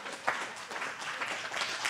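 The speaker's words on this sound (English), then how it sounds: "Either clap your hands or don't clap your hands." A church congregation claps their hands, a dense, steady patter of many palms at moderate loudness, with a slight swell near the start and again toward the end.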